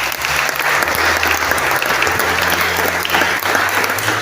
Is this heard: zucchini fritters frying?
no